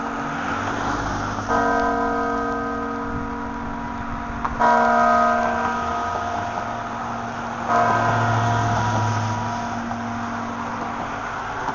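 Bells ring from the Basilica of St. Mary in Minneapolis in the morning, three spaced tolling strikes with ringing tones over a steady outdoor hum of traffic.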